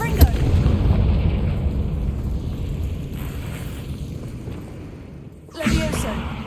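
A Confringo fire spell in the video game Hogwarts Legacy erupts in a loud, sustained blast that rumbles for several seconds and fades, followed by a second sharp burst near the end.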